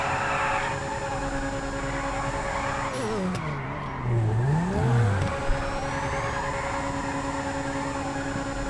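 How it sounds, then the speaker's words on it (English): A Grotti Carbonizzare sports car engine in GTA V drones steadily, then revs up and down with a rising, falling whine, loud and close, with no talking. "Listen to that engine."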